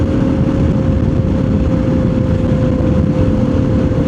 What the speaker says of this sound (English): my tires are super loud